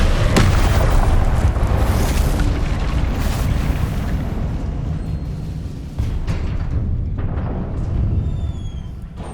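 A Confringo blast spell from the Hogwarts Legacy game erupts in a loud, booming roar that rumbles on for several seconds and slowly fades, with smaller bursts and debris tumbling through the tail.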